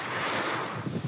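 Strong wind blows steadily outdoors on a Dutch coast, roaring continuously across the microphone with gusty buffeting and no voices.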